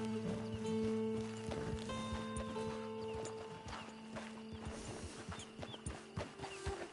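Horse hooves clip-clop steadily in a Red Dead Redemption 2 ride, a loud, fairly continuous trotting rhythm over a bed of game music, with a brief whinny-like note early on.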